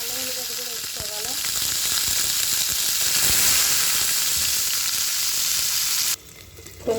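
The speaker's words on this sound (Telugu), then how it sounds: "ఇప్పుడు ఉల్లిపాయ, కరివేపాకు, పచ్చిమిర్చి ఇవన్నీ వేసుకోవాలండి. వేసుకొని ఫ్రై అయ్యాక" Onion, curry leaves and green chillies frying in a pan make a loud, dense, hissing sizzle that holds for about six seconds, then drops abruptly to a much quieter background.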